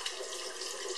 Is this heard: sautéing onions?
no